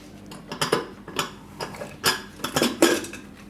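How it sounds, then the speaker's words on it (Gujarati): A rice pressure cooker being opened on a home kitchen stove after cooking plain rice: a run of sharp metallic clinks and clatters of the lid and pot, close and fairly loud, with no talking. "તો ભાતનું કુકર એ આપણે ખોલીને જોઈ લેવું."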